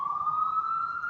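A steady wailing siren, continuous and fairly loud, with a rising pitch and no voices.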